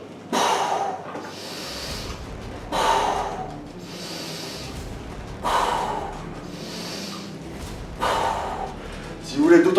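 Heavy, forceful breaths during leg extension weight training in a gym, a man inhaling and exhaling in loud rhythmic gasps and snorts roughly every two to three seconds.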